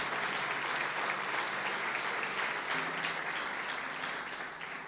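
A church congregation applauds, sustained dense clapping that fills the room evenly and tapers slightly at the end.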